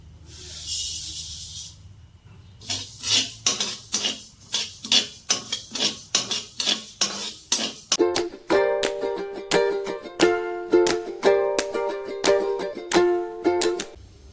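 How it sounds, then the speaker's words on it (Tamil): Spices and mustard seeds dry roasting in a pan for sambar powder: a brief sizzle, then a regular series of scraping, rattling strokes, giving way to brighter metallic clinks and scrapes that repeat rhythmically, close and clear. "எல்லாத்தையுமே கைவிடாமல் வறுத்துக்கணும்"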